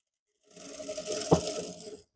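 A sewing machine gives a short burst of stitching while sewing elastic into joggers in a square pattern, loud and close, lasting about a second and a half with one sharp knock in the middle.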